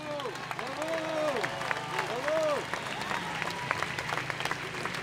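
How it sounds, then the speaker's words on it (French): A crowd at an outdoor anti-racism rally and tribute in Paris applauds loudly and steadily for several seconds, while a voice carries over the clapping. "Donc on va applaudir très fort pour l'encourager."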